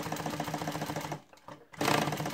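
A sewing machine tacking a magazine closure onto a pouch runs in a fast, even mechanical chatter, stops for a brief quiet pause, then starts again, close and clear with no speech.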